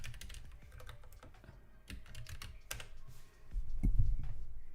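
Typing on a computer keyboard, with irregular bursts of key clicks up close against a low background hum and rising rumble near the end.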